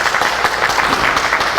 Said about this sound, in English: Let's get a round of applause for both Manny and Marco.